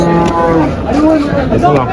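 Several cattle moo in overlapping, drawn-out calls amid a busy outdoor crowd murmur at a cattle market in Faridpur, Bangladesh, steady and moderately loud throughout.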